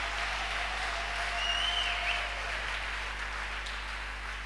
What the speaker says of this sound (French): Acclamez pour vous-même au nom de Jésus-Christ.